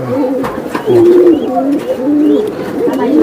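Soft, repeated racing pigeon coos fill the clip, low throaty calls close by at night, with a murmur of background voices underneath.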